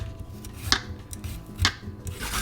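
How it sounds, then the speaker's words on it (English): Fresh ginger being peeled in a kitchen while making Japanese gyoza, with soft close scraping and rubbing strokes and two sharper scrapes, quiet and without talking. "Peel the ginger."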